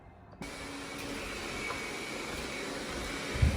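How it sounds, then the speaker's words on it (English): A vacuum cleaner switches on abruptly and keeps droning steadily with a broad hissing whir, moderately loud and close. "Sorry about the noise, guys, but our butler is vacuuming."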